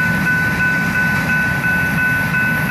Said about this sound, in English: Train heading west with a Canadian Pacific